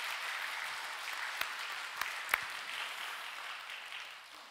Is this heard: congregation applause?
yes